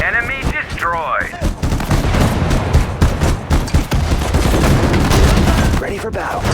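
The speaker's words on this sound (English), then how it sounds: "Machine gun oiled and ready." Machine gun fire in the Sudden Strike 4 war game, set in the Guadalcanal battle of the Pacific campaign, rattles as dense rapid bursts mixed with other gunfire and booms, with short voice lines heard early on.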